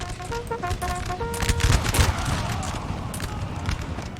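Musket volley fire from Napoleonic infantry in the strategy game Napoleon Total War, a dense rolling crackle of many shots with booming low rumble, a faint horn-like tone early on, loud and continuous.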